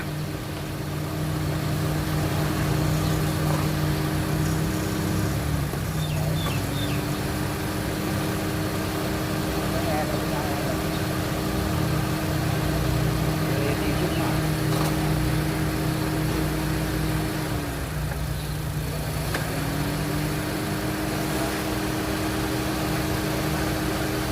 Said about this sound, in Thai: และนี่ก็คือขั้นตอนของการทดสอบระบบเครื่องยนต์นะคะ